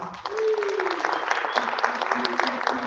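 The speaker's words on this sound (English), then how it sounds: "let's give ourselves a round of applause" Town hall audience applauding, a continuous wash of many hands clapping for a few seconds with scattered voices and a brief shout over it.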